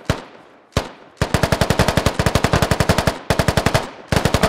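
Squad-style automatic gunfire rattles in a video game battle: a couple of single loud shots, then long rapid bursts of evenly spaced rounds, close and sharp with brief gaps between strings.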